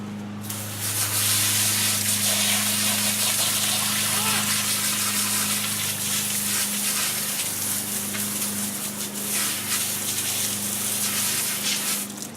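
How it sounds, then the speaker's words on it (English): A handheld spray gun blasts a steady, loud stream of water to rinse soil off the roots of tomato plants, a continuous hissing gush running almost unbroken, with a low pump hum beneath it. "I usually use a spray gun and I spray off the soil"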